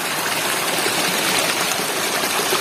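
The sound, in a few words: river water flowing over rocks at Way Bernung waterfall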